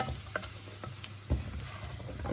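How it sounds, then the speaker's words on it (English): A Spanish chorizo chicken stew with butter beans in pepper tomato sauce gets stirred in the pot, giving a low continuous bubbling sizzle and a few soft spoon scrapes and knocks, close up. "Because it absorbs it better when you stir it around."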